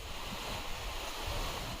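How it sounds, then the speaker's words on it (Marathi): Strong gusty wind blowing dust across open ground near a school, a dense roaring rush buffeting the microphone without pause, no talk. "वारा बघा किती जोराचा सुटलाय नुसती धूळ"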